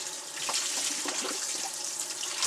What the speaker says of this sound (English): What I'm going to do is I'm going to rinse this hide off.